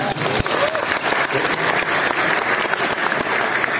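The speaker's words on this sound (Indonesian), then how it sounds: "boleh tepuk tangan buat Gajah Mada" A large audience at Gadjah Mada University applauds loudly and continuously, a thick steady wash of clapping from a big hall crowd throughout.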